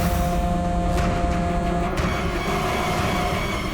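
Road traffic with car engines, a continuous close rumble and hiss with a couple of brief passing whooshes.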